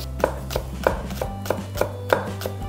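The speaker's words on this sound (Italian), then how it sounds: "vado a preparare un po' di cipollotto fresco" Knife chopping fresh spring onion on a cutting board, about eight crisp, evenly spaced cuts in a steady rhythm, close and clear, while something sizzles in hot oil underneath.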